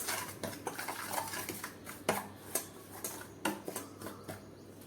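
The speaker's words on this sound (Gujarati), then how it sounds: "ગરમ કરીને રાખેલું તેલ ઉમેરી દઈએ તેલ ઉમેર્યા પછી આપણે મિક્સ કરી લઈએ" Green chilli pickle being mixed with heated oil, a spoon clinking and scraping against a steel bowl in a series of sharp, close taps and stirs at moderate level, with no talking.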